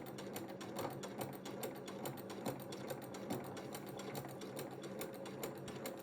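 A sewing machine runs steadily, stitching a quilt-as-you-go block with dense rapid needle ticks at a close, even level, with no talking.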